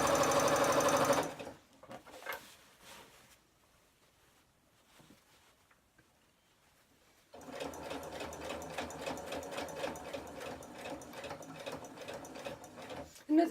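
Sewing machine stitching fabric for a simple bag, with the needle set in the down position: a short burst of rapid mechanical chatter, a quiet pause with faint handling, then a longer steady run of rhythmic stitching up close.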